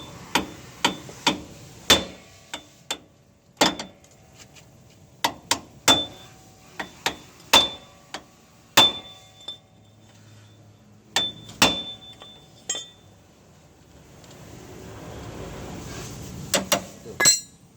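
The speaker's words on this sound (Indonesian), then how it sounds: "Ini kita ketok ya pakai palu. Sekali keras nih langsung loncat ya" A hammer knocks a car draglink joint loose in a run of about twenty sharp, ringing metallic strikes, some in quick pairs or bursts, with short pauses between them and no talk.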